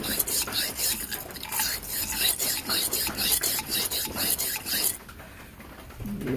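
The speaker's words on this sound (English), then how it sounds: "Okay, I got this 12 gauge cleaning brush. An old military cleaning rod for a pistol. Stick that in there." A 12-gauge bore cleaning brush on an old military pistol rod scrubs inside a Coleman 502 camp stove, making fast rhythmic rasping strokes up close that stop abruptly near the end.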